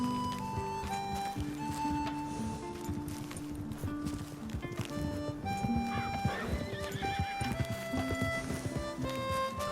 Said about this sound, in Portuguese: Mas aí aparece um bando de cavalos selvagens.